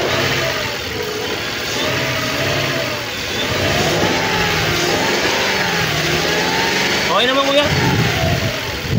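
Car engine with a weak battery revved repeatedly while parked, rising and falling surges over a steady idle, close and loud, with people talking over it.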